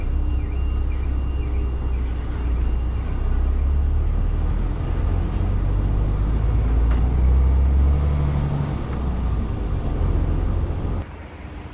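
A lorry turning around, its engine rumbling steadily and close for several seconds before it cuts off abruptly near the end, with no talk.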